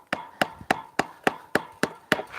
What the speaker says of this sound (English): So basically I squish the end down with a hammer.